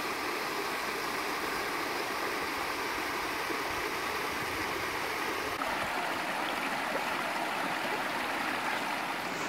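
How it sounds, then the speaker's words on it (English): A waterfall in a Los Angeles canyon pours steadily into a pool, a dense, continuous rush of falling water filling the scene at close range with no pauses. "there is the waterfall"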